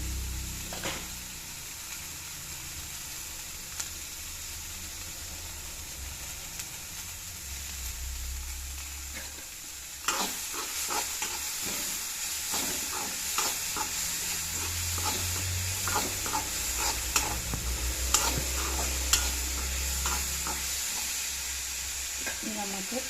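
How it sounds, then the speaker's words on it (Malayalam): Onions sizzling in a pan with salt added, cooking for a green chilli theeyal, a steady close frying hiss with sharp stirring scrapes that grow busier and louder in the second half. "അടച്ചു വെക്കാൻ വേണ്ടി നല്ലപോലെ ഉള്ളി ഒന്ന് വെന്തോട്ടെ"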